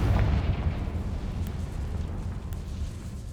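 The Confringo fire spell explodes in the Hogwarts Legacy video game, a dull booming rumble that bursts at the start and fades away over a few seconds.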